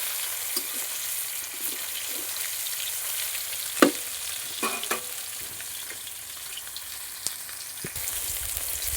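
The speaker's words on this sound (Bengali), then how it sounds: "এবার আমি ওলট পালট করে নেব। ভালো করে লাল লাল করে মাছটা ভেজে নেব।" Fish sizzles steadily in hot oil with a constant bright hiss, broken by a few soft scrapes and clinks as the pieces are turned over in the pan.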